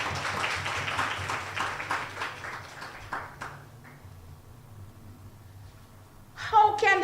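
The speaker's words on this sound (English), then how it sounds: "Give him a big round of applause." Workshop audience applause rings out as a busy, crowded patter of claps, then fades away within a few seconds before a voice speaks.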